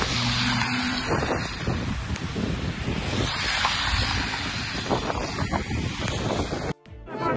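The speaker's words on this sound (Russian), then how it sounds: "Мына бардык машиналар жүрүп атат." Cars pass along a reopened road in Kyrgyzstan, a steady rush of traffic mixed with heavy wind buffeting the microphone, loud and continuous before cutting off near the end.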